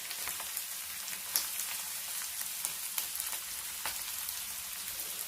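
Pieces for a pickle fry in hot coconut oil, a steady soft sizzle with scattered crackling pops that continues throughout without any voices.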